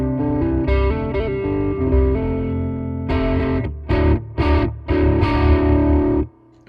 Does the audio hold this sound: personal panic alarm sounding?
no